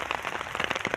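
Hailstones pelt down in an outdoor rose garden, a dense, irregular patter of sharp close impacts filling the whole second with no voices.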